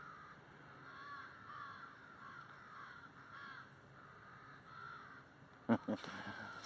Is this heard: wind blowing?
no